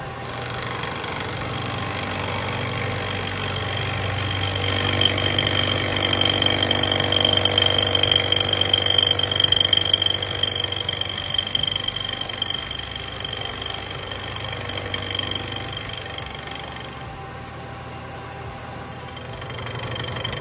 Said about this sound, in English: Here's the cut slowed down in slow motion so you can see it actually cutting the material away from the key.